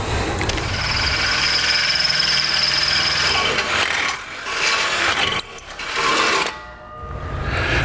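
A loud, continuous grinding whir of a power drill enlarging a hole in the metal frame rail of a 2015 Chevrolet Silverado 2500, running steadily with a few brief dips where the bit eases off before biting again.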